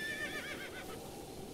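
A horse neighs in The Legend of Zelda: Breath of the Wild, a loud whinny at the start that fades into a steady ambient bed, with no talking.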